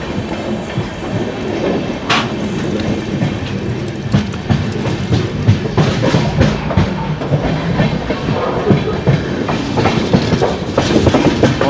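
Hampi Express passenger train running between Bangalore and Hubli, with steady loud rumble and rhythmic clickety-clack of wheels on rails heard from inside the moving coach, no talking.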